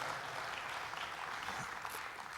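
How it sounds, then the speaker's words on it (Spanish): Steady applause from a group of people, a dense patter of clapping that holds evenly for a couple of seconds. "Muy bien, un aplauso a esos 2 hermanos que ya"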